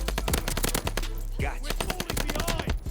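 Rapid automatic gunfire rattles in the video game Call of Duty: Vanguard, a dense burst of close, loud shots with a few brief pauses, and there is no speech.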